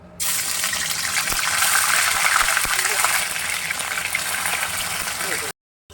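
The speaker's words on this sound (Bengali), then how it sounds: "মাছগুলো আমি ভেজে নেবো তেল গরম হলে" Snakehead fish frying slowly in hot oil, a loud, dense hissing sizzle that holds steady for several seconds and then stops abruptly.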